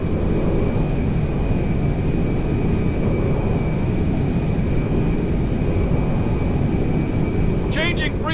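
Steady roar of a Merryweather cargo jet in flight in GTA V, a constant loud engine drone with a thin high whine running throughout, ending with a brief electronic warble.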